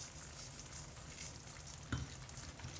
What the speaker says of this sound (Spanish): Ya tengo la carne, ya se está sofriendo, ya está empezando a sofreírse.